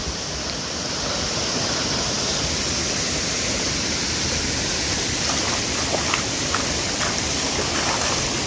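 A high-volume mountain stream flowing beside a Himalayan hill village rushes continuously, a loud, close, steady broadband wash of water with no pauses and no voices.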